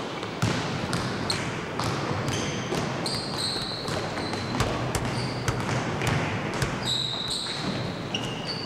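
Ball bouncing on a hard gym floor during a school game, repeated sharp thuds at an uneven rhythm over a busy hall with squeaking shoes and crowd noise.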